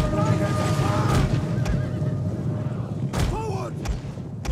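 Cavalry of Parthian horse archers advancing in an ancient-era strategy game: horses whinny over a dense rumble of hooves and battle noise, with shouted voices mixed in.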